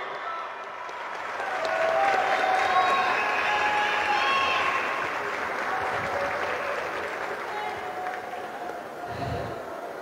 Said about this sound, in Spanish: Felicitaciones y el aplauso.